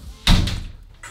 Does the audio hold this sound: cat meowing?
no